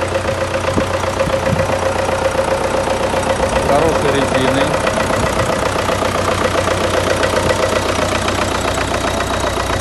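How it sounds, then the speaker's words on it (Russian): A 1996 MTZ-82 tractor diesel engine idles close by with a steady, loud, rumbling knock throughout, while someone talks briefly over it. "Хочу показать вам трактор МТЗ-82."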